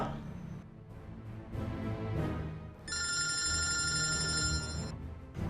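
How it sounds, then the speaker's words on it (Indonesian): A telephone bell rings indoors, a bright electronic trill lasting about two seconds over a quiet room background. "Gawat. Telepon dari Mr. Delawan."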